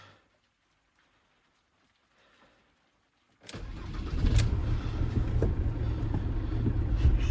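A 2006 Ford Transit 2.0 TDCI diesel van, just repaired for a clutch master cylinder fault, sits quiet for over three seconds, then cranks and catches into a loud, steady, rumbling idle that carries on to the end.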